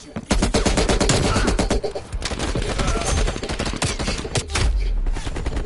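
Rapid gunfire from a shooter video game on Switch, loud bursts and sustained automatic fire including three-round bursts, dense and continuous throughout with a voice talking underneath.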